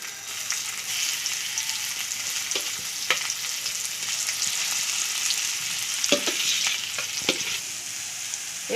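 Green peas frying in mustard oil in a wok after whole cumin, a steady close sizzle with occasional sharp crackles and stirring scrapes, no voices over it.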